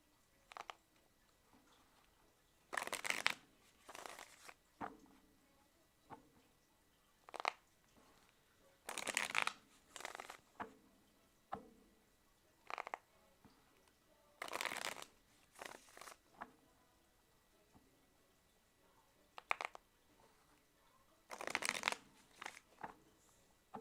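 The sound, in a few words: tarot cards being shuffled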